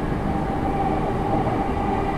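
A JR 209 series 500 electric train runs on the line between Mitaka and Tsudanuma. Its loud, steady rumble and motor drone come from inside the carriage, with no talking.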